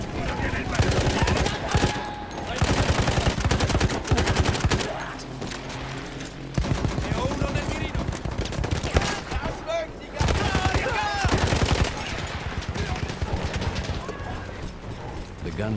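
A mounted machine gun in Battlefield 1, an emplaced weapon on the Italian front, firing long rapid bursts at close range with brief pauses between strings of shots, while a voice talks at points underneath.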